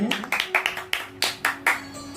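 An audience claps in short uneven bursts to welcome a ghazal performer, moderately loud hand claps layered over one another.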